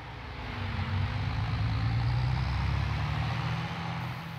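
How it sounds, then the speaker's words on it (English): Vehicle engine and transmission while driving at speed over uneven terrain, producing a steady loud drone with a low humming tone that rises and shifts slightly as the load changes. "As we drive over uneven terrain, we can hear the tone of the engine constantly shift as it adapts to the various changes in load."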